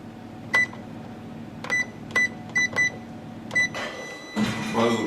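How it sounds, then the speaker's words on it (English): An oven timer beeps in a home kitchen while lamb roasts: about seven short, sharp electronic tones at irregular intervals, fairly close, followed by a burst of clattering noise and a brief voice. "the buzzer's just gone, so that's the half an hour's been."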